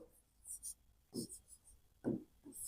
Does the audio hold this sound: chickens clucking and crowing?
no